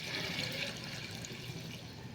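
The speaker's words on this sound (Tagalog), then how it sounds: "Lagyan na natin ng tubig." Water poured into a pot of chicken stew, a steady close rushing splash that keeps flowing evenly for a couple of seconds with no talking.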